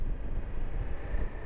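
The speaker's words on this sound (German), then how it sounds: "jetzt greift hier wieder der Wind an und das bei 31 Grad" Strong wind gusting on a mountain pass road in the Alps, a steady low roar buffeting the microphone with no talking.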